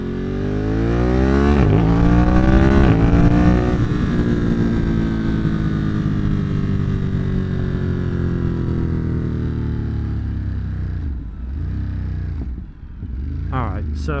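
Motorcycle engine with a quick shifter, revving loudly and steadily while riding, pitch climbing through the first few seconds then holding a droning tone with dips near the end as the throttle eases.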